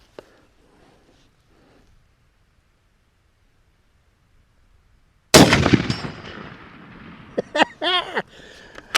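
A CVA Cascade Long Range Hunter rifle in 7mm Rem Mag fires once at a steel target after quiet near-silence, a sharp loud blast with a ringing decay, followed by brief voiced sounds from the shooter.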